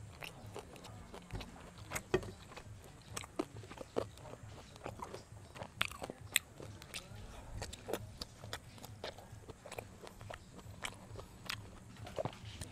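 Close, quiet crunching and chewing on grilled chicken inasal feet, with repeated small bites and smacking in a steady irregular rhythm over a low background hum.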